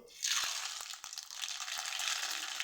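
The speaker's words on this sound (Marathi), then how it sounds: "मोहरी छान तडतडली" Mustard seeds crackling and spitting in hot oil in a pot on a gas stove, a sudden sizzling burst followed by scattered sharp pops over a steady frying hiss, close by.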